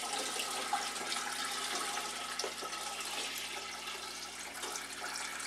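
Water steadily running into the tank of a CleanStation SRS-DT3 support removal system, a constant hissing, splashing fill with no pauses, heard close up throughout.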